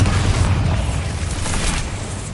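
A Bombarda blasting spell goes off in a Hogwarts-style video game, a loud, rumbling explosion that booms and lingers for a couple of seconds.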